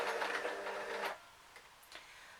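Sewing machine labouring through a thick seam of a fabric bag hat, a close whirring mechanical run that stops after about a second, followed by faint clicks and handling noises.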